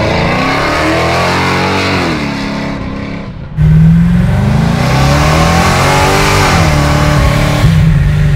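A 650 hp procharged Chevy Chevelle SS restomod accelerates hard, its loud engine note rising through a gear, cutting out briefly at a downshift, then surging back with a deep, sustained roar heard from inside the car.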